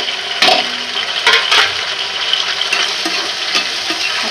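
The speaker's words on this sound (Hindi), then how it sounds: "अब हम इसमें टमाटर डाल देंगे।" Tomatoes go into hot oil for egg biryani and sizzle loudly and close, a continuous frying hiss broken by a few sharper spits and stirring bursts early on.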